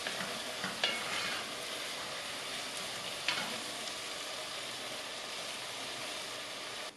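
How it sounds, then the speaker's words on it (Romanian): Chopped onion softening gently in a pot for braised cabbage, with a steady low sizzle broken by occasional scraping stirs of a utensil against the pot, fairly quiet and continuous throughout. "Amestecăm și lăsăm până ce ceapa se înmoaie."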